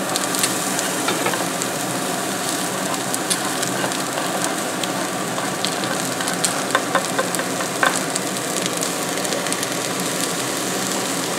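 Onions sizzle steadily in a hot pan alongside Costco pierogi, a continuous close frying hiss with small crackles and pops, and no voices.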